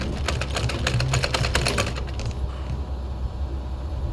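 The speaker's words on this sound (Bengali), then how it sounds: "পিছনের দিকে আমি এভাবে একটু ভাঁজ দিয়ে সেলাইটা" A sewing machine stitches a folded seam on a kameez, a rapid close mechanical clatter running steadily before easing off into a quieter hum, with no talking.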